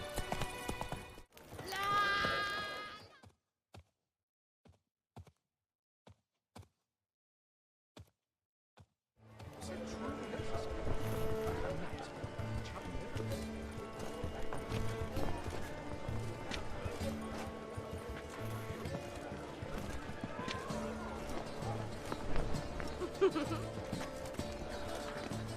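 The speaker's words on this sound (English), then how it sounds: "Whoa there, Roach" Horse hooves clip-clop and a whinny sound from The Witcher 3 video game: a brief burst of sound, a few sparse isolated knocks, then a steady, fuller game soundtrack bed continuing to the end.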